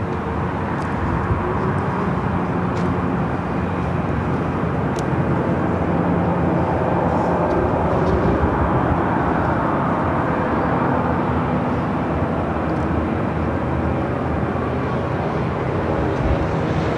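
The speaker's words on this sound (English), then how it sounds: "we got the Asiana A380 Super heading up for a north side takeoff" Asiana Airbus A380 taking off from the north side at LAX, a continuous loud jet roar sustained for the whole stretch, broad and steady without talk.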